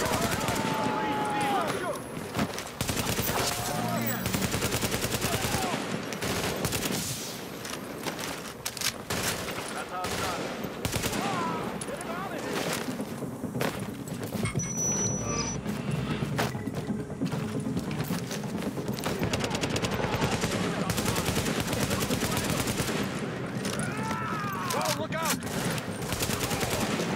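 Dense, sustained automatic gunfire and fusillades in Tom Clancy's The Division, a shooter video game, loud and continuous throughout with scattered bursts and faint voices mixed into the chaos.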